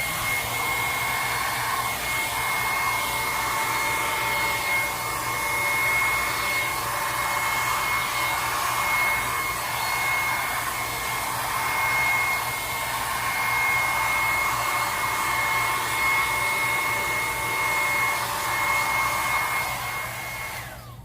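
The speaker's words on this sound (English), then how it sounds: "Let me get the hair dryer. Okay, so it's gonna be noisy for a second." A hair dryer blows continuously at close range, a steady whooshing roar with a high whine, running for the whole stretch without talk.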